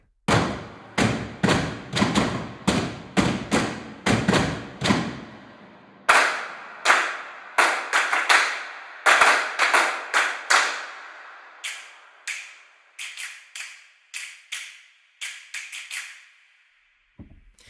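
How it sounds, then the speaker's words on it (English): Stomps, claps and snaps from a drum sample pack play one after another as sharp, dry percussive hits, first in fast regular runs and then in sparser groups with short decays, loud and close with no talking. "So we have the stomps, claps, and snaps."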